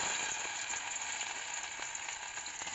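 Chopped ginger sizzling in hot oil in a pan, a steady dense frying hiss with small crackles throughout, close and fairly loud, with no voices.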